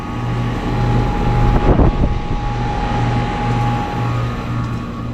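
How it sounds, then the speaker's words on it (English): A Goodman GSC13 upstairs air conditioner compressor runs at its first startup of the year, giving a steady, loud mechanical hum with a harsh, strained tone and a brief rougher surge midway, with no talk. "other than the angry compressor sound"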